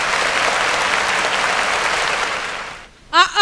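Audience applause fills a Tamil New Year debate hall, a dense steady clapping from the crowd that fades out near the end before a voice begins speaking.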